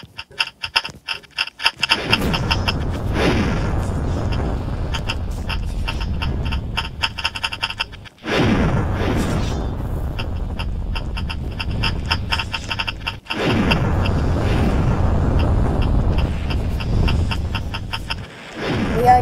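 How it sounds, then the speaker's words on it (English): Bomb explosions in a video game: three heavy booming blasts, near the start, around eight seconds and around thirteen seconds, each followed by a loud, dense rumble that fills the gaps between them. "Bomb attack!"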